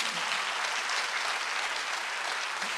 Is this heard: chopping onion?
no